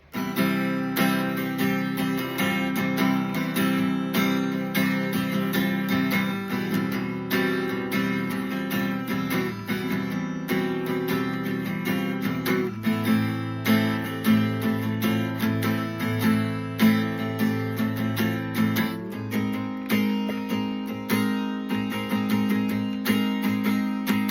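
Acoustic guitar strums a steady chord progression of a song, even rhythm with changes every few seconds, close and moderately loud, no voices.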